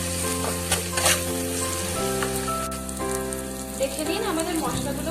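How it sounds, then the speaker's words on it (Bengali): Spices and a spoonful of tomato puree frying together in oil in a pan for a Bengali thali, a loud continuous sizzle with crackling pops and occasional spoon scrapes, close up, with a steady hum and tonal music underneath. "এরপর আমি বড় চামচের 1 চামচ টমেটো পিউরি দিয়ে দেব। দেওয়ার পর 2 মিনিট আরো ভালো করে কষিয়ে নেব।"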